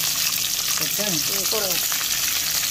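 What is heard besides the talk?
sautéing garlic and curry leaves in a pan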